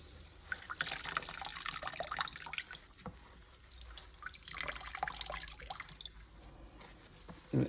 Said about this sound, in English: I just soak the berries in these kind of 5-gallon paint strainer bags. And then I squeeze all the juice out of them.